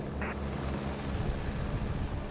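A Huey helicopter in Farming Simulator 24 on a search and rescue mission near Rome drones with a steady low rotor rumble and engine whine, constant and close throughout.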